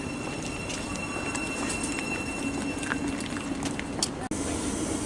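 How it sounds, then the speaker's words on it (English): A Thameslink train to Brighton pulling out of St Albans City station, rumbling and rolling steadily with faint high squeals and rattles over a continuous low roar, heard from the platform. "departing now, it's 10:27 Thameslink service to Brighton from Bedford"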